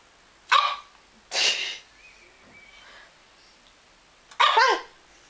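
A pug barks three times, close and loud, with quiet pauses between the sharp barks.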